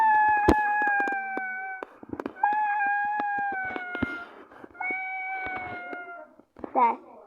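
A cat meows in several long, drawn-out, wailing calls, each loud and close. Sharp clicks and taps break up the calls, and a brief yowl comes at the end.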